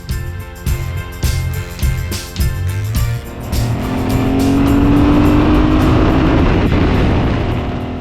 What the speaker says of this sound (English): This was a thoroughbred racing bike that they put on the street, and believe me, it does race.